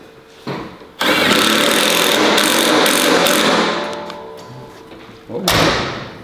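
A loud power tool whirs steadily for several seconds with a rough mechanical rattle, then stops, and a short final burst follows, tightening a loose door on a truck.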